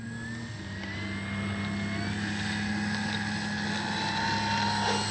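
A Dynam Bf-109 RC model plane taking off into the wind, its electric motor giving a steady, rising hum that grows slightly louder over a few seconds, with no voices.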